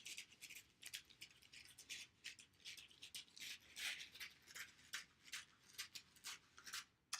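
Fabric scissors snipping along a drawn pattern line, a quiet run of rapid, crisp blade closures and paper-like rustling, close but faint, with no talking.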